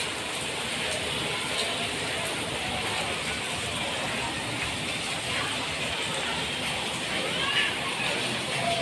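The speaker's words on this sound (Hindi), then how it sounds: "ये देखो बारिश हो रही है, बारिश।" Steady rain falling outdoors, a dense, even hiss of drops pattering on surfaces that carries on unbroken and fairly loud from start to finish.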